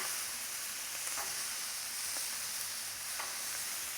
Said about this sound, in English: If you don't have any, go ahead and flip them to the raw side.